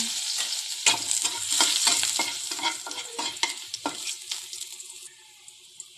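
Garlic hits a hot frying pan with a sharp sizzle, then is stirred and scraped in quick repeated strokes, the hiss fading toward the end; Filipino home cooking, no voices.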